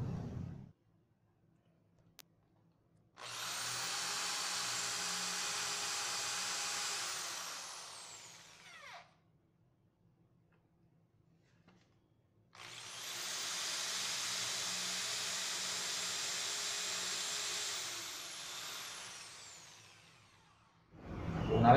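Two separate bursts of a drill bit boring through melamine board, each a few seconds of steady hissing whir that starts and stops cleanly, with quiet gaps between and no talking.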